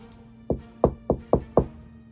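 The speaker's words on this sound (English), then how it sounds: "I heard a polite knocking on the door behind me" Five firm knocks on a wooden door, evenly spaced and fairly close, with a dull resonant thud to each.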